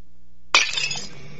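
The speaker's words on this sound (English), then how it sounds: "That's the sound my coffee mug made when it hit the kitchen floor" A coffee mug shatters on a kitchen floor in one sudden loud crash, with ringing ceramic fragments that scatter and fade, heard alone.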